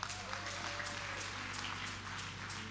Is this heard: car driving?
no